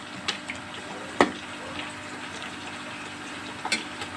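Carrots for gajar ka halwa roasting in ghee over medium heat, a soft continuous crackle and hiss punctuated by a few sharp clicks and stirring knocks.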